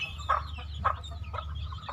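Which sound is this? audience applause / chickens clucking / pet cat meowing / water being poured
chickens clucking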